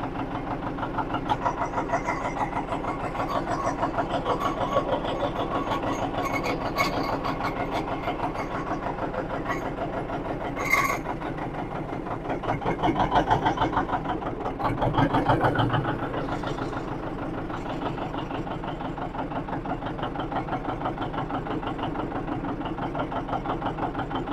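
A John Deere 720 diesel tractor engine chugs steadily at idle with a rhythmic knocking beat, briefly revving louder partway through, nearby with no talking.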